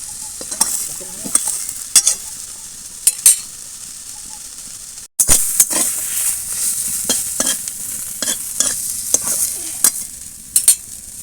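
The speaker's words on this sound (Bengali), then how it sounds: "এবার ঢাকা খুলে উল্টে পাল্টে ভালো করে একদম ভেজে নেবে শাক" Sushni greens tossed and fried in mustard oil in a kadai with slit green chillies and chopped onion, a steady close sizzle broken by repeated sharp scrapes of the spatula; no talking.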